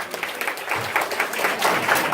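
An audience at a community event applauds, a warm burst of clapping that carries strongly through the whole moment.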